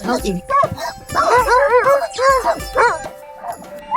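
Sled dogs barking and yipping in quick, excited bursts close by, with a few whimpers between barks and a person speaking briefly.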